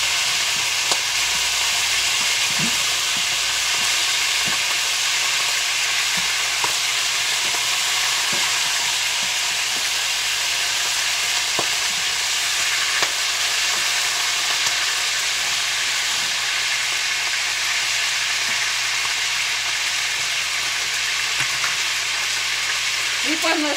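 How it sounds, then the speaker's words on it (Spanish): Chicken browning in spattering fat in a pan for pollo enchilado, a continuous dense sizzle and popping that stays loud and close for the whole stretch, with no voice over it. "aquí va nuestro pollo, ya va dorándose un poquito, sancochándose, la grasa sigue brincando"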